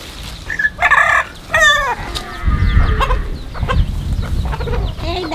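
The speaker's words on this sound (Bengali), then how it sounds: "এই মুরগিগুলো আমাদের বাড়ির পোষা মুরগি।" Backyard pet country chickens crow loudly and cluck close by, a rooster's crow rising over steady clucking and scratching, with no voices.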